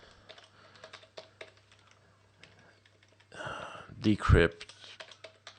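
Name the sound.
typing on a computer keyboard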